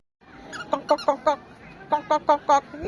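Two quick runs of sharp, nasal squawks from chickens, four or five calls each, close by with a short pause between.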